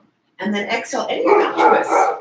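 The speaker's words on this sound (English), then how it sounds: "I'm sorry if you hear barking in the background." A rambunctious puppy yips and barks indoors, a few quick high barks mixed in with a voice giving yoga breathing instructions up close.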